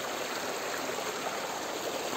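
Water runs steadily down a hillside channel into a collection spot, a soft continuous rushing and trickling flow, fairly quiet and even throughout with no voices.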